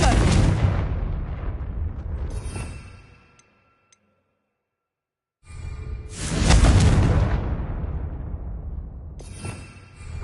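Confringo blasting curse from the Hogwarts Legacy video game: two loud, booming explosions, each a sharp burst that rumbles away over a couple of seconds, separated by a brief silent gap.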